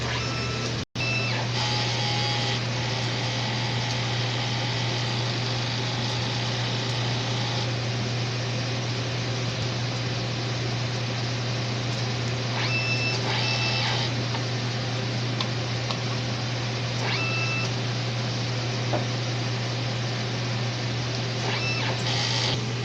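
A TIT-1 Luna 60cm DTF printer runs a head-cleaning cycle: a steady mechanical hum continues throughout, broken by a few short whirring and clicking bursts from the cleaning mechanism. No one speaks.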